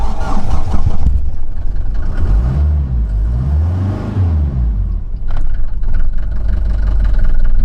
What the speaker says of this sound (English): I will try to start the engine.